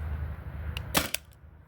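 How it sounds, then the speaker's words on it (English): A Tippmann TiPX paintball pistol running on CO2 fires one shot, a single sharp, close pop standing out against a low steady hum, followed by a fainter trailing click. "Here's the first shot."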